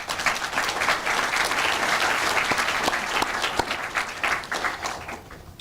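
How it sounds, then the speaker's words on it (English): An audience at a recognition gathering gives a sustained round of applause, thick clapping with a few sharp individual claps standing out, tapering off near the end. "So I would like to give both of them a round of applause."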